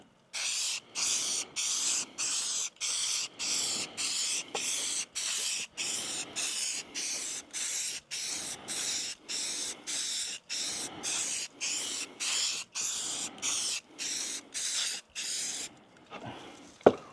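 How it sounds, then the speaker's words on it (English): An aerosol spray can applies paint colours to wooden beehives in bursts, with about two dozen short, loud hissing sprays in a steady rhythm separated by brief pauses, close up and with no talk. "before I go spray painting any colors on there that shouldn't be on there"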